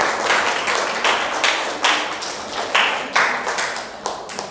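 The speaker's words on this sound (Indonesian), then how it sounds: "Tepuk tangan untuk Farel." A small group claps in a burst of applause, uneven rhythmic hand claps fading and surging for a few seconds.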